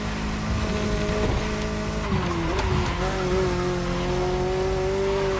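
An expensive car in a racing video game revs up with a rising, whining engine note that climbs in pitch and holds near the top, loud and continuous with no talk over it.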